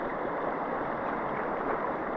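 Heavy rain pours steadily through a forest, a dense, unbroken hiss that stays even and close from start to finish, with no voices heard.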